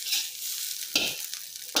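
Nasi goreng fried rice sizzling hard in a pan over a strong gas-stove flame, with steady frying hiss and scraping stirs at regular intervals, close and loud with no voices.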